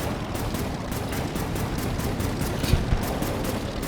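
Missiles fired in the Air Wars 3 game in rapid succession: a dense, rhythmic stream of roughly evenly spaced launches and blasts over a constant rumbling roar, with one slightly stronger impact near the end.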